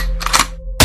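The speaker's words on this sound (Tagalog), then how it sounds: "Pinutok niya ang baril at tumama to sa dibdib ko" A single sharp gunshot effect bursts loudly at the very end, preceded by a short whooshing swell and a brief low tone in an otherwise quiet dramatic scene.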